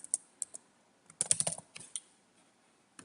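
Quick bursts of keystrokes on a computer keyboard, close and quiet, in short irregular clusters with brief pauses in between.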